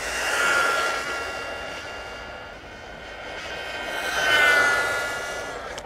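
Cheap brushless RC car on a 3S battery speeding along a smooth road, a high motor whine that swells as it passes close at the start, fades, then rises again on a second pass.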